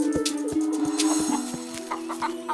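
Loose chickens cluck in a jungle-village setting, with several birds making close, rhythmic clucks and sharp calls, fairly loud and without any talk.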